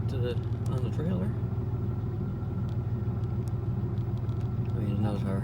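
A 1975 Dodge truck engine rumbles steadily in low range while pulling a trailer, a loud, close, continuous drone, with someone talking over it at the start and end.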